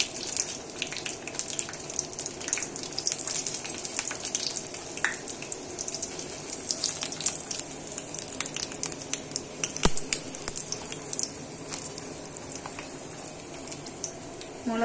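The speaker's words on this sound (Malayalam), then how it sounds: "മുളക് ചൂടായി കഴിയുമ്പോൾ നമുക്കറിയാം നല്ലൊരു നല്ല കിളികിളുത്തൊരു സൗണ്ട് ഇറക്കം വരും." Dried red chillies sizzle and crackle in hot oil in a home kitchen while making ulli chammanthi, a steady faint hiss dotted with sharp pops and snaps, heard alone without talk.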